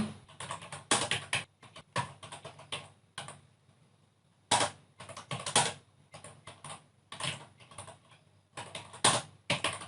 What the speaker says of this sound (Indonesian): Setelah itu kita ketikkan komen seperti ini.